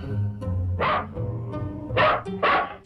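A dog from a 1968 Lithuanian animated film barks in three sharp, close, loud barks over a low background voice, with a short whine between them.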